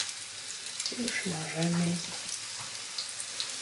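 Pierogi fry in a pan over a medium gas flame, giving a steady crackling sizzle that runs the whole time beneath a voice speaking briefly.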